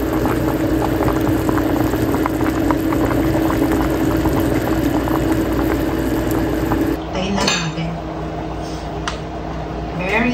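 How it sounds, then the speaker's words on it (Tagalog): Beef bulalo soup boiling in a covered pot, a steady bubbling simmer with a low burner hum that continues throughout and softens slightly near the end. "Uy, kumukulo na siya"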